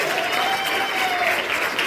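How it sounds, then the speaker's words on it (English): An audience at an evening event claps steadily, a dense, even wash of applause from many hands filling the whole stretch. "let's give them a round of applause as well"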